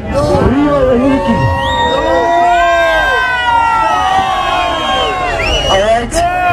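A large crowd at a motorsport wheels-and-smoke event screams and cheers loudly and continuously, with shrill whoops and voices rising and falling over a dense roar.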